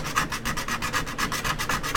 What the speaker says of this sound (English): I'll start sanding a little bit